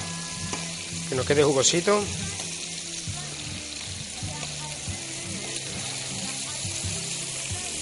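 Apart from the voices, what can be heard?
pork tenderloins with cumin being turned while frying in a pan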